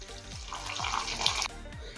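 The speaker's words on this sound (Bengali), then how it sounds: "এখন দেবো গরম জল" Hot water poured into a pan of potato curry (niramish aloor dom) with spiced yogurt gravy, a steady splashing rush over a low sizzle, close and moderately loud, stopping abruptly partway through.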